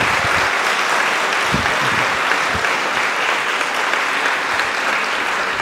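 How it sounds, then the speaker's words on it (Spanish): A church congregation applauds steadily after a priest is introduced at a parish gathering, loud and continuous clapping filling the whole stretch without pause. "un aplauso."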